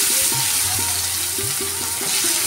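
Chopped onion is added to hot oil with tempered spices for a Bengali fish-head muri ghonto and sizzles with a constant bright hiss, close up, while a soft tonal melody plays faintly underneath.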